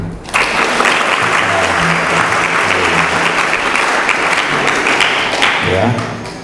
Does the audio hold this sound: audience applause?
yes